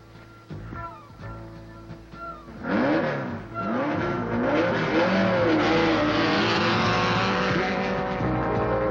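A specially built Bradley GT stunt jump car, a stripped-down vehicle made in Minneapolis, revs its engine loudly up close, rising from a low idle into a sustained roaring rev with climbing pitch sweeps.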